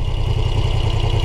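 A 2024 Moto Guzzi V85TT motorcycle engine idles close by, a steady low pulsing throb with even beats, loud and alone.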